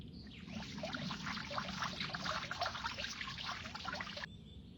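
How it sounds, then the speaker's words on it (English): Water pours steadily from a watering can onto planted flowers, a continuous splashing trickle lasting about four seconds before cutting off, close by and alone. "Let's water them so the flowers grow faster."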